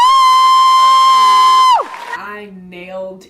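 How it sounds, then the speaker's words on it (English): A pageant audience cheers and whoops loudly in a sustained burst with a steady high tone over it, then the crowd noise drops away and a voice begins speaking. "Audience was really feeling my answer. They were cheering"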